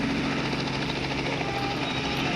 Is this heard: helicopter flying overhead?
yes